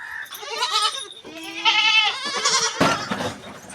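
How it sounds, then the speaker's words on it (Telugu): A week-old goat kid bleating near the microphone, several short wavering cries in a row, loud and clear. "ఇది ఒక మేక పిల్లండి, దీని పేరు డాన్స్ అండి."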